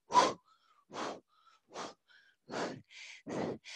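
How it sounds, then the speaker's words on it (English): Forceful breaths out through the mouth during a yoga exercise, about six close, breathy puffs spaced roughly evenly with quiet pauses between them, alone with no talking. "We're gonna breathe through the mouth."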